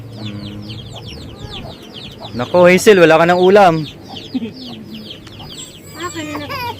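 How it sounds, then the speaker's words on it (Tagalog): Chickens cluck and a rooster lets out a loud crow midway, with a person speaking briefly and scattered bird chirps around. "Ayan, marami pang manok."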